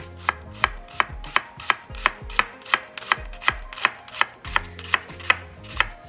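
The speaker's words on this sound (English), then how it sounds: "The first thing we're gonna do is to brunoise some shallots, slice in half." Knife brunoising halved shallots on a cutting board for a burger sauce, a steady, close series of about sixteen crisp chops at an even rhythm, with no talking.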